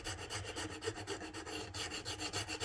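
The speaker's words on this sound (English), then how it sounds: "I am shaving the nut down now" Rhythmic back-and-forth rasping as a file shaves down the nut of a Fender Squier Bass VI, quiet, close strokes repeating steadily at about four per second with no voices.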